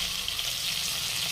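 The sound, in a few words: boal fish pieces frying in oil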